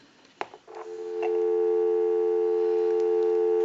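A couple of clicks on the line of a Western Electric 500 rotary telephone, then a steady, humming dial tone holds without a break.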